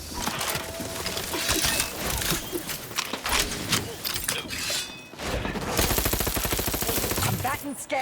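Rapid gunfire in The Outer Worlds 2, bursts of sharp shots with mechanical clatter, building to a dense automatic stream of evenly spaced reports near the end, loud and close.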